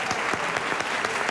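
A single person clapping alone at a French comedy show, steady regular claps close by with no crowd joining in.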